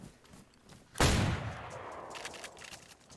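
A single loud, sharp gunshot in the survival game DayZ on Deer Isle, cracking close by and leaving a long echoing tail that fades over a couple of seconds, with faint scattered noises before it.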